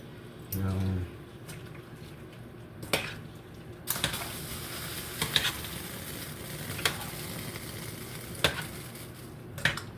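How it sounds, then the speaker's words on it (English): Hot pepper sizzles in a pan for a home Sunday dinner, a faint steady hiss with a soft thud early on and intermittent clinks of a utensil against cookware. "Add a little piece of hot pepper."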